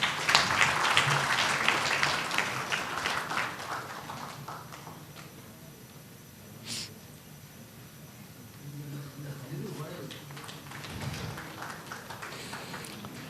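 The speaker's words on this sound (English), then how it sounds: "Let us all give sir a big round of applause." Audience applause at a legal seminar for a senior advocate receiving a book, a burst of many hands clapping that thins into scattered claps, with quieter gaps and another rise later.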